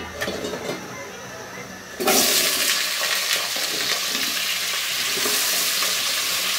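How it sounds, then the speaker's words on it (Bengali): Cut potatoes hit hot oil in a saucepan over high heat, and a loud, steady sizzle starts suddenly and carries on unbroken after a quieter opening. "এই আলুগুলাকে দিয়ে আমার ভেজে নিতে হবে"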